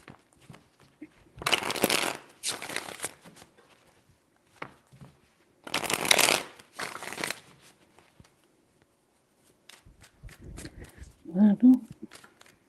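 Tarot cards are riffled and shuffled in several brisk bursts with quiet pauses between them, close and crisp, followed at the end by a brief spoken voice.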